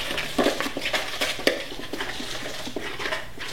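Muffin batter with cinnamon being stirred in a bowl, heard as a steady run of soft scrapes and light clinks of a utensil against the bowl, fairly close, with no one speaking.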